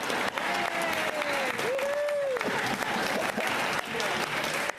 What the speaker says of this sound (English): Clap, give him a hand.